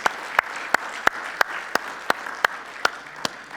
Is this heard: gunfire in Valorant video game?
no